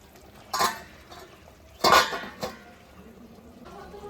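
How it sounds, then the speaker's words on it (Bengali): Metal lid set onto a pot of chicken kasha, two distinct close clanks about a second apart with a lighter rattle after, over a quiet kitchen background with no talking. "এবার এটাকে আমরা ঢাকা দিয়ে দেবো"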